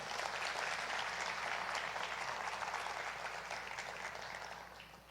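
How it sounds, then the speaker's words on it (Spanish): Congregation applauding during a Spanish-language sermon, a thick, continuous wash of many hands clapping, steady and then tapering off at the end, heard from a slight distance. "¿Le quieren dar un aplauso al Señor por su palabra?"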